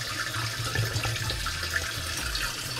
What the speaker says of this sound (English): The water's flowing really well, and the tank's pretty much filling up right now.